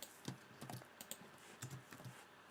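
Quiet, irregular clicks of keys being tapped on a computer keyboard, a short burst of close typing with small pauses between keystrokes.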